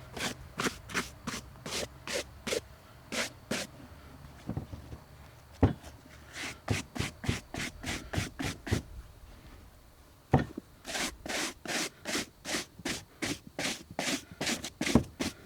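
Leather boots get brushed free of sand, dirt and debris with quick, rhythmic bristle strokes, close and crisp in fast bursts, then a short slower pause before another rapid run of brushing.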